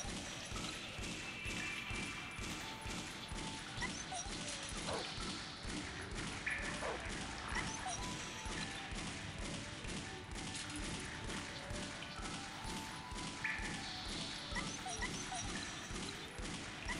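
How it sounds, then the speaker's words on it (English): Dogs in the video game Shadow Man Remastered bark amid rapid bursts of gunfire and thuds, forming a continuous, fairly quiet barrage of repeated shots and yelps throughout. "Dude, I just have to murder all these dogs."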